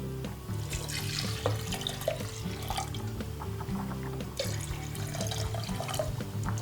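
Water pours steadily into a cooking pot over lentils, a continuous close splashing and gurgling stream with faint clinks, heard alone without talk.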